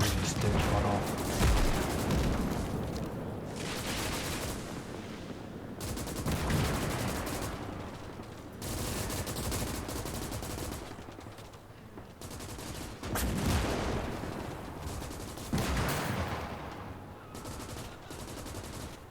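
Dense bursts of machine gun fire crackle through a World War II battle in the real-time strategy game Gates of Hell, the volleys rising and fading in waves over a constant roar of combat.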